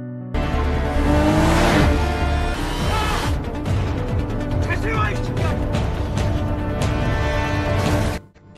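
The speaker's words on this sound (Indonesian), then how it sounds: "Dengan cepat dia pun langsung menancap gas dan pergi dari sana" Cars speed through a film car chase with engines roaring, tires squealing and vehicles rushing past, loud and continuous under a narrator's voice until an abrupt cut near the end.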